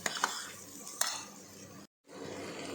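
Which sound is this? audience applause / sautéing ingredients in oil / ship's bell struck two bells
sautéing ingredients in oil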